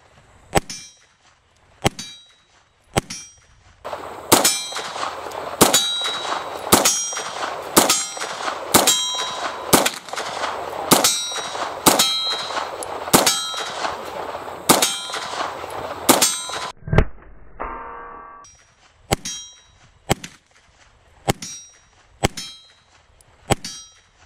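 A CZ Scorpion Evo 3 S1 pistol fires in a steady string of sharp, loud reports with metallic clangs, a few spaced shots first, then a rapid regular series, then more scattered shots after a brief pause.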